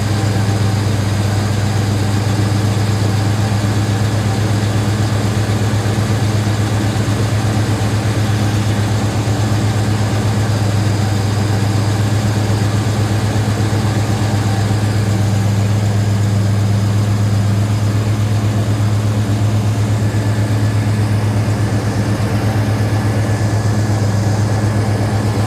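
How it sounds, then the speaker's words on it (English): A car engine runs on fast idle with a divorced automatic choke, producing a loud, steady, unbroken low drone with a constant hum and no variation in speed. "listening to an engine go on fast idle"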